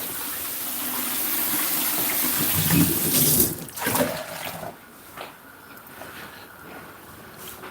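Water runs loudly from a tap in a home kitchen, a steady rushing gush that abruptly cuts down partway through, leaving a fainter trickle and quieter room sound.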